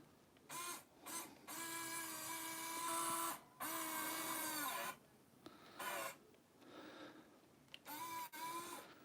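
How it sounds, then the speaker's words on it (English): A Trail Rider 570 RC crawler's winch dragging a load across a desk gives off a small electric motor whine in several starts and stops, some long and some brief, quiet and close. "See there? It works. The winch actually works."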